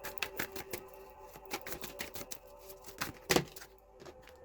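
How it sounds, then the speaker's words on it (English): A tarot card deck being shuffled by hand, a quick run of crisp papery riffles and taps, close and fairly soft, with a sharper flurry near the end. "I'm gonna shuffle my tarot deck"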